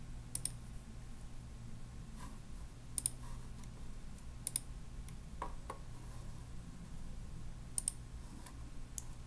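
A computer mouse clicks sharply and sparsely at a desk, single clicks spaced a second or more apart over a quiet steady hum, with no talking.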